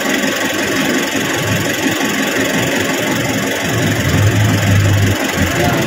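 A vehicle engine idles steadily nearby while coolant is poured in through a funnel, a continuous low rumble with faint vibration and no talking.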